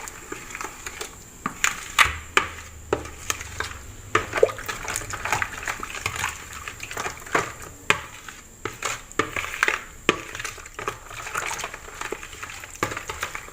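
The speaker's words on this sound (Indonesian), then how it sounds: "Kita masukkan semua ya airnya ya, kita aduk sampai dia rata nih." Water is stirred into sapao bun dough in a bowl, wet sloshing and squelching with intermittent clinks and knocks of the utensil against the bowl, close and fairly quiet, with no speech.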